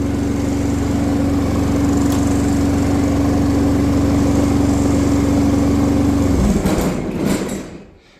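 A motor fitted with a new drive belt runs loud and close with a steady chugging drone for about six seconds, then stalls and winds down into quiet, with no speech.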